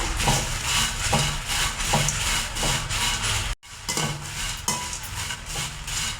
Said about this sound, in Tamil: வரமிளகாயை நம்ம நல்லா சூடுற அளவுக்கு வறுத்தாச்சுங்க.